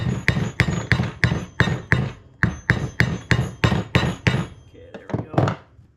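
Side of a hammer strikes an old socket to drive a tapered roller bearing race into a '55-'57 Chevy hub: about thirteen loud, close metallic blows at a steady rhythm, the last few lighter and quicker.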